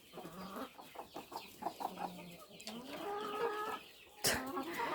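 Several chickens cluck close by in quick, uneven bursts, with louder squawks toward the end and a quiet background.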